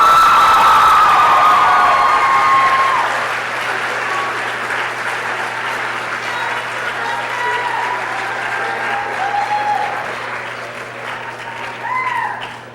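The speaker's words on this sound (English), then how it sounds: "we'd like to take this opportunity to give a round of applause to Mr. Chuck Britton," Loud crowd applause with cheering and whoops at a high school class day ceremony, strongest at the start, then easing into sustained clapping with scattered shouts from an indoor audience.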